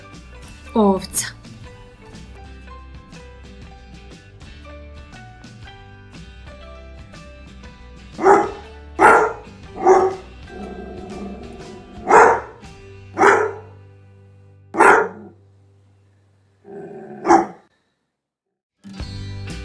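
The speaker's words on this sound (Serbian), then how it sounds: "Pas." After a quiet stretch, a dog gives about eight loud, separate barks spaced a second or two apart, close to the listener.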